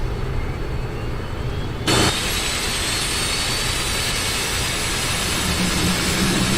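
An airliner's number one engine spools up in a flight simulator game after ground power is disconnected, a loud steady turbine roar that jumps abruptly in intensity about two seconds in and then holds a broad, sustained whine.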